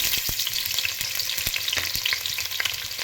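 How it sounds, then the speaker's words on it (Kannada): Finely chopped onion frying in hot oil, giving a bright, steady crackling sizzle close up, broken by occasional sharp clicks from the ladle against the pan, with no voices. "ಕಾದಿರೋ ಅಂಥ ಆಯಿಲ್ಗೆ ನಾನು ಒಂದು ಬಟ್ಲಾಗೋಷ್ಟು ಈರುಳ್ಳಿನ ಹಾಕ್ತಾಯಿದ್ದೀನಿ"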